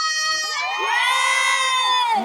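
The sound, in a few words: crowd cheering and shouting at a fiesta show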